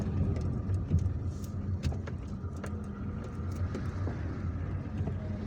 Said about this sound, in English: Traffic is slow, but it's not really a traffic jam.